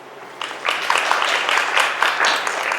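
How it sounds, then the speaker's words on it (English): Live audience applause welcoming author Paula Whyman to an informal literary event, a dense steady patter of many hands clapping that starts abruptly and holds at an even, fairly loud level. "How about a round of applause to welcome Paula Whyman?"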